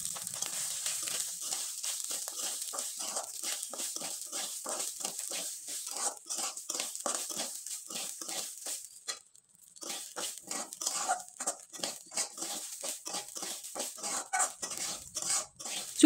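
Basmati rice lightly frying in a pan on low heat as it is stirred: a rapid run of dry scraping and rustling strokes, close and moderately loud, with a brief pause midway.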